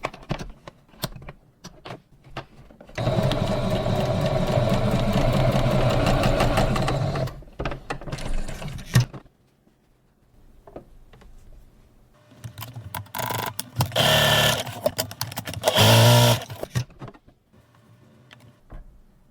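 A sewing machine running at its maximum stitch length of 4.8, giving one sustained burst of even, fast mechanical whirring, followed later by shorter bursts with clicks and handling noises around them.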